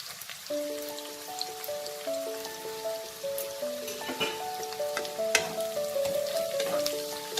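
Chopped ginger and onions fry together in a pan, giving a soft, crackling sizzle with some stirring, fairly quiet beneath a gentle melodic music track.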